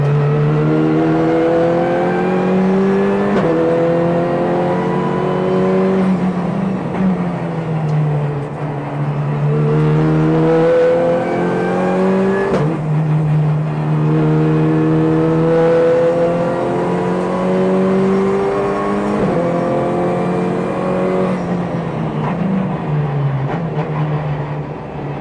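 A race car engine revs hard and climbs through gears on a track, loud and close, with repeated rising pitch sweeps, brief drops at each shift, then renewed acceleration.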